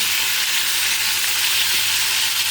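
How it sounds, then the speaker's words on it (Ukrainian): Steady, dense sizzling of meat with onions and bell peppers frying in a hot pan, continuous and close with no voices. "овочі вже порізала, м'ясо смажиться. І все, одразу цибульки з болгарським перчиком"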